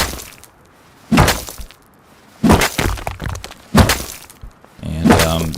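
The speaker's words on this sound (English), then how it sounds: "I'm gonna gather a stone node and a tree." Stone node and tree being harvested in the Rust survival game: three separate bursts of heavy thunking, cracking strikes about a second apart, then a fourth hit with a ringing tail, each one loud and clear against a quiet background.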